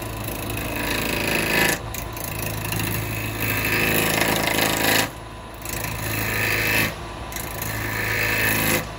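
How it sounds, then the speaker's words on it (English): A maple bowl being rough turned on a wood lathe with a bowl gouge gives a steady, loud scraping and cutting drone with two brief dips as the tool is lifted, running alone without talk. "now with a bowl gouge, we've got to come in slightly differently"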